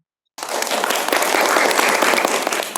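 A classroom of students bursts into applause after a presentation in an Islamic religious education lesson, starting abruptly from silence and continuing as a steady, full clatter of hands to the end.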